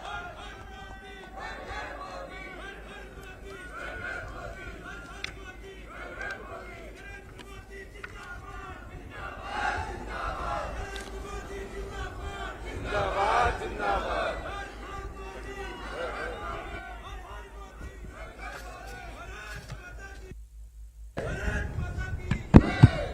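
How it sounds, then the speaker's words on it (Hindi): Large outdoor crowd at a Kedarnath temple event with Prime Minister Modi, applauding and cheering continuously at moderate loudness with overlapping shouts, swelling mid-way and cutting out briefly near the end before a louder burst. "एक बार जोरदार तालियां नरेंद्र मोदी जी के लिए।"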